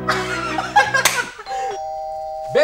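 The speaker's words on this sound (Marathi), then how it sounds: "बेल वाजली साहेब जागा दरवाजा उघडा" A doorbell chimes a clear ding-dong at the door of a home, loud and close, following some brief talk and laughter.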